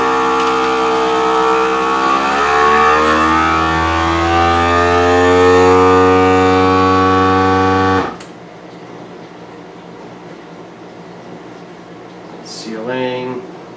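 A vacuum sealer pumps and heat-seals a bag of applewood hot-smoked lake trout in a kitchen, a loud steady droning hum for about eight seconds that cuts off abruptly, followed by quiet room tone and a brief voice.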